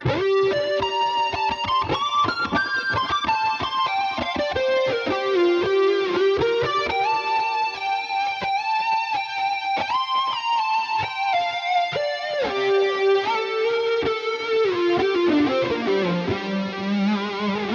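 Smooth electric guitar melody with a rounded, pure sine-wave-like synth tone from the tone knob turned down, notes gliding and sustaining steadily with a slight effected shimmer.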